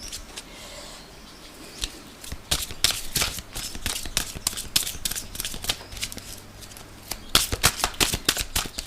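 Oracle cards riffled and shuffled by hand, a steady run of crisp, quick flicks and snaps close by that thickens into a denser burst near the end, with no voice over it.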